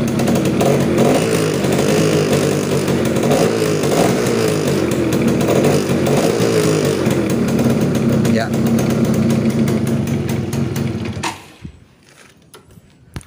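A 2001 Yamaha Sigma motorcycle engine, kick-started, idles with a steady low rumble for about eleven seconds, then cuts out, with a brief voice near the end.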